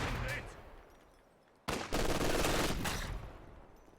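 Bursts of MG42 machine gun fire in a World War II strategy game match, loud rapid gunfire breaking in after a quieter stretch and continuing densely to the end, with battle noise underneath.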